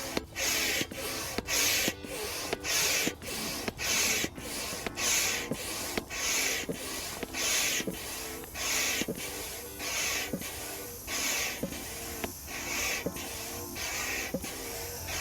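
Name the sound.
dual-action hand pump inflating TF Gear Airflo air bivvy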